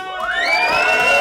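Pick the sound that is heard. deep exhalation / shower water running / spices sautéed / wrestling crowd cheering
wrestling crowd cheering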